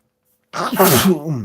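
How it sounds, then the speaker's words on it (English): After a moment of silence, one abrupt, close sneeze bursts out and trails off into a breathy exhale. "I got to sneeze"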